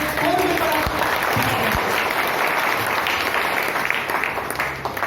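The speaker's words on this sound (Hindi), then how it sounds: "राजेश सर एक बार माइक देने के लिए तालियां जोरदार बननी चाहिए" Sustained audience applause at a monthly celebration program, a steady dense wash of many hands clapping throughout, fairly loud, with a brief voice near the start.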